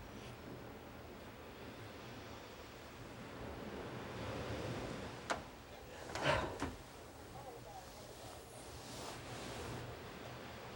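Ocean surf washes in a continuous soft roar mixed with wind, with a few brief knocks and clatters breaking through near the middle.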